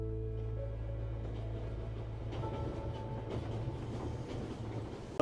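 A train rolling along in a movie scene, a low steady rumble of wheels and cars with faint rhythmic clatter, held under a soft musical drone and fairly quiet throughout.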